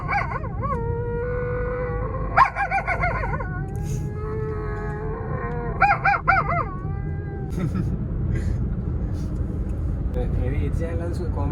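A man imitates a dog howling at night, with several drawn-out wavering howls rising and falling in pitch, close and loud over a steady low background hum.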